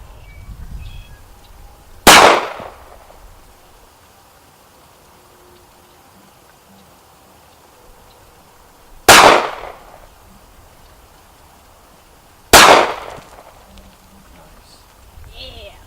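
Glock 43 pistol fired at an outdoor range, three sharp loud single shots spaced several seconds apart, each with a short decaying echo, with quiet background between.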